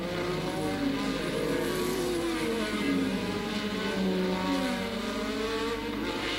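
Formula One race cars at Hockenheim in the mid-1980s, Brabham and McLaren machines among them, roar past in a steady, loud wash of high-revving engine noise that rises and falls slightly with no talk over it.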